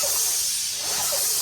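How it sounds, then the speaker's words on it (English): A new paint sprayer hisses steadily as it coats the outside of a shed in a tight spot, a continuous close, loud airy spray with no voices. "we're doing our practice run with our new paint sprayer on the shed first"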